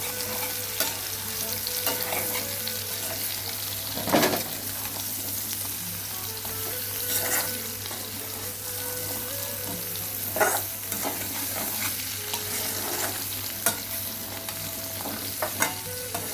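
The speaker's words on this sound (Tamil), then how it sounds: "இப்போ இந்த போட்ட அம்பரலங்காய இந்த வதங்கி கொண்டிருக்கிற வெங்காயத்தோடு நல்லா ஒருக்கா கலந்து விடுவோம்" Ambarella pieces and softened onions sautéing in a pan for a Sinhala-style ambarella curry, with a steady close sizzle and repeated spoon scrapes and stirs; no talking.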